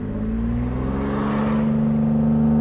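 A car engine hums steadily at a low pitch, its tone rising slightly as it revs up, with no talking.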